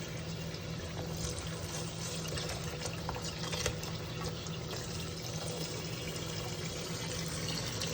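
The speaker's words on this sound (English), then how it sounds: "Maybe I need to add more water." Tap water runs steadily into a bowl of blueberries in a home kitchen, a continuous close splashing rush with no talk over it.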